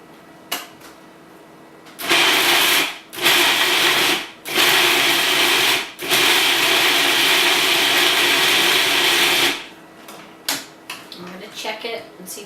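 An electric mixer beats gluten-free carrot cake batter in a home kitchen. It whirs loudly and steadily in several runs with brief stops, and a voice speaks over the quieter stretches before and after.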